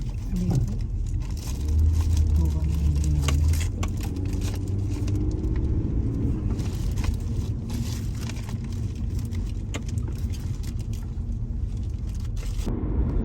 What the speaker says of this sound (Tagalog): we're back on the freeway